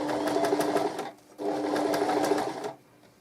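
A sewing machine stitches a zip onto a knitted cardigan in two close bursts of rapid, rhythmic needle chatter, separated by a short pause and stopping near the end.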